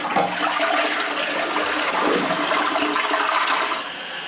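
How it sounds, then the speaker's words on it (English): A toilet flushes close by with a loud, continuous rush of swirling water that tapers slightly at the end, the toilet likely having a partially plugged siphon, with no talk over it. "So, I don't like the way this is flushing, first off."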